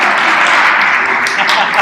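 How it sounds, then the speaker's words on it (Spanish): Audience applause for actors at a church Bible-training session: a steady, dense wash of clapping that fills the short moment evenly without pause. "Gracias, amigos, denles un aplauso,"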